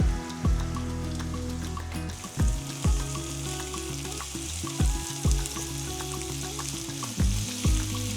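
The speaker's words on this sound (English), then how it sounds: "Roast the peppers with onions." Peppers and onions roasting in a pan, a bright continuous sizzle with a low background hum and several sharp, close clinks of a utensil at irregular intervals, with no voices.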